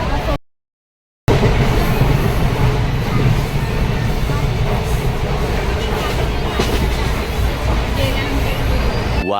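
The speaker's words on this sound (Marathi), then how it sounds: "आता आम्ही ट्रेनमध्ये बसलेलो आहोत." Inside a moving train, a continuous loud rumble and rattle of the carriage fills the space after a brief dropout, with voices murmuring faintly underneath.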